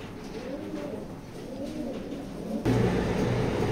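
A female racing pigeon in a loft coos softly in repeated rolling phrases against low background hum, with a louder thump or shuffle near the end.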